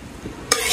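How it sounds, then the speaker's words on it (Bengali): Oil in a village kitchen pan bursts into a sudden bright sizzle about halfway through, after a quiet stretch, and keeps hissing steadily to the end. "এখন তেল দিয়ে দিলাম। প্রথমে ডিম ভাজবো,"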